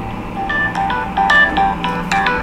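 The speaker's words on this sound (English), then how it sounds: "And my phone is ringing now," A phone rings loudly and close up with a bright repeating electronic ringtone, set off by an Alexa find-my-phone command, its melodic beeps recurring in quick bursts throughout.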